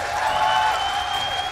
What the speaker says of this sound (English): The crowd showing their support.